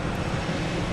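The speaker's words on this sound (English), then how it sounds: "Air Canada coming in from Montreal." An Air Canada Airbus A220 arriving from Montreal gives off a loud, steady jet roar with broad rushing noise, close by and unbroken for about a second.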